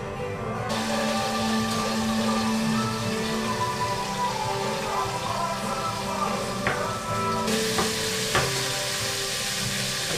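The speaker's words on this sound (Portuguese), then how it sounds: "Vou colocando aqui pra ir dourando a carne." Meat browns in a frying pan with a loud, steady sizzle that fills the whole stretch, broken by a few sharp clinks of a utensil against the pan.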